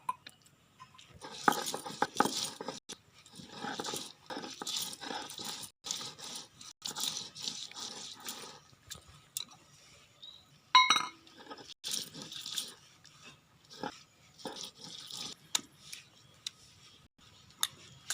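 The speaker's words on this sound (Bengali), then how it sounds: "এবারে পেঁয়াজটা বাটবো" Onion being ground into paste on a traditional grinding stone for a village-style prawn and spinach dish, heard as a steady run of gritty, rhythmic scraping and crunching strokes, close and moderately loud, with one sharper clink near the middle.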